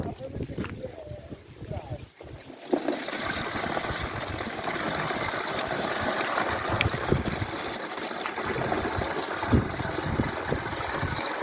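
Water poured over an onion field in rural Bangladesh, a steady rushing and trickling flow that starts after a brief pause and continues close to the microphone throughout.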